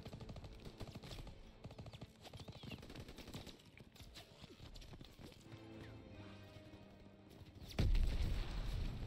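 Machine gun fire from a hayloft in Call of Duty: WWII during the D-Day mission: rapid, fairly faint bursts of automatic rattling over battle ambience, ending with a louder crash near the end.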